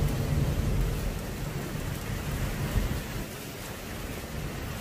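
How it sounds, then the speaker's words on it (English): A derecho storm brings steady rain with strong gusting wind and a deep, rumbling low roar. It starts loud and eases slightly partway through, with no talking. "It's raining, but it's windy in the same breath."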